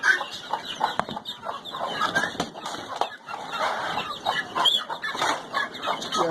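A hen with chicks hatched two days earlier clucks repeatedly in short, overlapping bursts, a busy, close chatter of poultry sounds with no talking.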